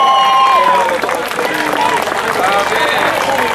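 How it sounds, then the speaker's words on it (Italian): A crowd applauds the young women's crew of an Opel Corsa GSI at a regional slalom car race. The clapping is loud and continuous, with a lively crowd and some talk over it. "Grande applauso per queste giovanissime ragazze"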